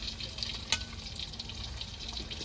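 Eggs fry in a pan seasoned with chilli, salt and turmeric, a soft, even close-up sizzle with one brief sharp click partway through and no speech.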